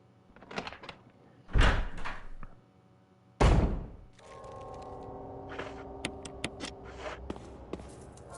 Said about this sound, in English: I heard another door.